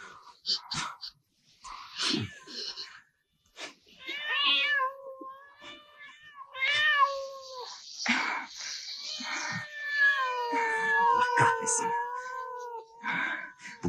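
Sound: cat meowing

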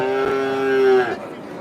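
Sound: cow at cattle market

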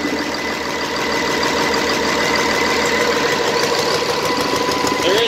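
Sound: Cummins 6BT ISB diesel engine idling with a misfire

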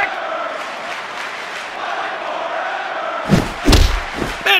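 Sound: video game wrestling arena crowd

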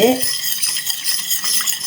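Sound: stirring dish wash liquid mixture for cleaning brass vessels

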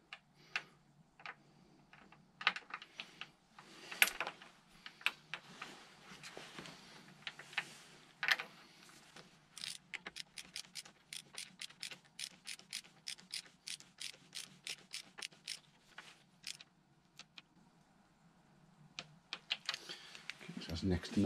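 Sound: tightening motorcycle swing arm fastener with torque wrench

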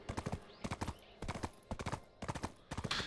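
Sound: horse galloping in video game Black Desert Online

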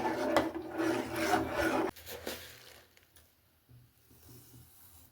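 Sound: spooning sugar into homemade barley malt drink

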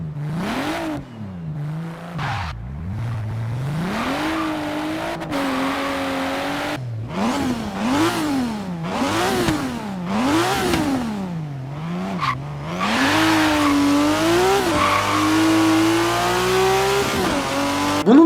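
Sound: car engines revving in racing video game

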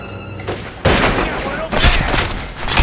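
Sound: sniper gunfire in the video game The Godfather 2

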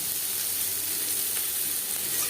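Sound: two medium onions added to hot oil, sizzling

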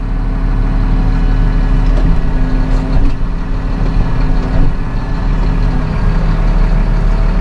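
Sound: Massey Ferguson 7715S Dyna6 tractor engine revving

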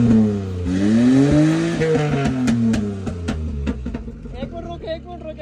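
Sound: Suzuki Khyber engine revving with exhaust backfire pops

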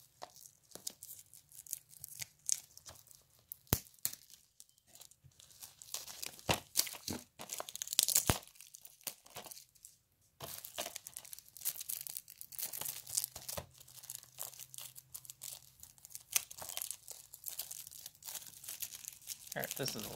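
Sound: peeling plastic wrap off a PS4 game case

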